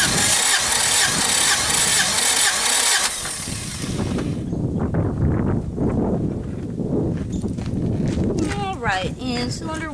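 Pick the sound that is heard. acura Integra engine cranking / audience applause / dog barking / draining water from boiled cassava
acura Integra engine cranking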